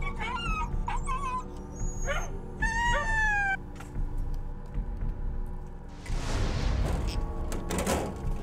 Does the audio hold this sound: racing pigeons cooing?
no